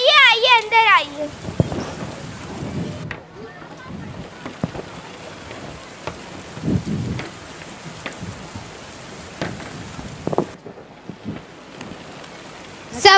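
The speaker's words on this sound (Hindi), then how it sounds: "अरे अनीसा आपा, आप इतनी बारिश में?" Heavy rain in a school stage play at an annual function in Mumbra: a steady downpour hiss with scattered thuds and splashes runs throughout, and voices speak over it.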